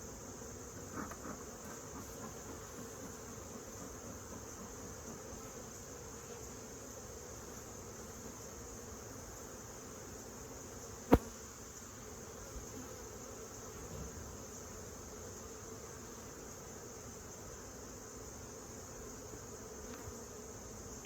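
Bees hum steadily around an opened hive as honey is taken, a continuous faint buzzing that fills the background, with one sharp knock near the middle.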